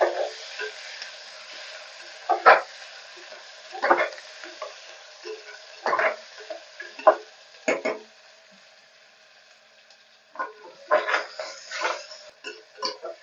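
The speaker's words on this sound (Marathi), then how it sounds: "लालसर होईपर्यंत परतून घ्यायचा चांगला कांदा" Onion sautéing in hot oil for spiced rice, heard as a bright sizzle with bursts of spoon scraping and stirring that come in uneven clusters, then a quieter stretch before more stirring near the end.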